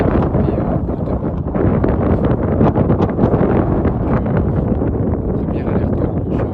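Strong winter wind gusts buffet the microphone in a loud, continuous roaring rumble that swells and eases unevenly, with no other sounds standing out.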